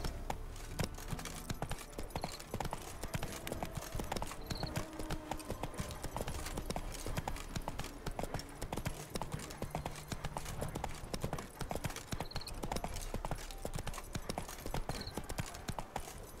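Rapid rhythmic hoofbeats of the horse Roach galloping in a video game, a continuous close drumming gait over a steady backdrop, with a few faint tonal blips.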